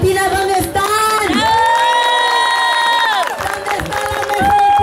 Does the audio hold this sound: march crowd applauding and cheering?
yes